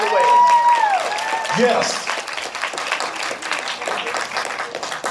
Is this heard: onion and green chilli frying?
no